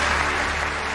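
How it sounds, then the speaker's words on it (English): Applause from a studio audience at the BBC Sports Personality of the Year 2006 ceremony, a dense, loud and steady wash of clapping that fills the short moment. "To rapturous applause from the studio audience"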